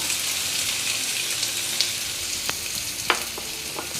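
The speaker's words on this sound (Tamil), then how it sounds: "ஆயில் சூடானேன்னா இந்த கிழங்கு நம்ம இதில் சேர்த்துக்கலாம். இது நல்லா ஒரு 5 மினிட்ஸ் நல்லா இதில் வதக்கி விடலாம்." Potato pieces fry in hot oil in a pan, giving a loud, continuous hiss and crackle, with a few sharp clicks and pops of a utensil stirring them partway through.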